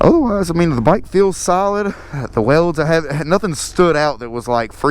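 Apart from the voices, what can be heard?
No everyday noise stands out behind the speech.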